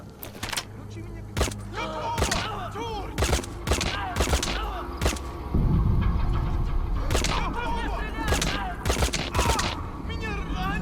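Unsuppressed gunfire in Metal Gear Solid V, with a rapid series of loud, sharp gunshots in irregular bursts, one heavier thud partway through, and voices talking between the shots.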